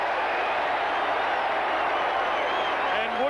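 An Essendon football crowd at the 1984 Grand Final against Hawthorn cheers a free kick with a steady, roaring mass of voices, sustained and dense for a few seconds, a commentator's voice faintly joining near the end.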